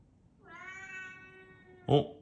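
A recorded cat meows in one long, drawn-out, tonal cry played back to a dog, followed by a brief loud thump or bark-like burst at the end.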